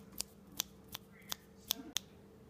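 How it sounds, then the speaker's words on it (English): Six crisp finger snaps ring out alone at a steady, unhurried pace, close and clear against a quiet room. "And then you snap your fingers."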